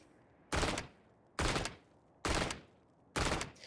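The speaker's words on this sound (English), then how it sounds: "So this is a burst fire mode." Stinger gun firing in burst mode in Valorant: four evenly spaced, loud bursts of rapid gunfire, each clipped short, with no voices.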